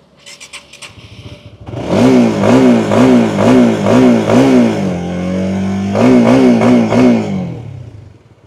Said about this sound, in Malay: jom kita dengar bunyi motor ni